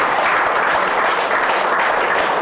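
An audience at a talk on addiction recovery claps in dense, sustained applause, loud and close throughout the short stretch.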